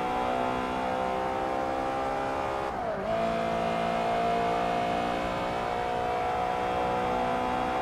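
A Honda VTEC engine in Forza Motorsport 3 revs hard and steadily, its high-pitched harmonic whine climbing, briefly dipping as the gear shifts, then rising again, loud and continuous with no talk over it.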